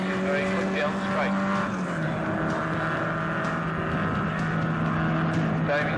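Race cars at speed on a circuit, a small Sports 1300 car and a Formula 2 car, their engines droning steadily with pitch shifts, under continuous commentary.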